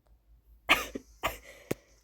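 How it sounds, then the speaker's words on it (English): A few sharp allergy coughs, close by and spaced apart, with a quieter throat-clearing sound between them in an otherwise quiet room. "Apologies for the cough"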